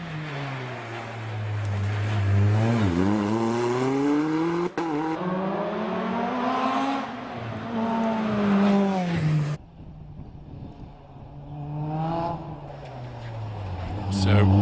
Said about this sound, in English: It's an ex-rallycross car.